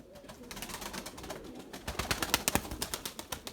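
Pigeons in a loft coo and shuffle, their soft calls layered with fluttering and scratchy movement that grows busier and louder toward the end, with no voices present.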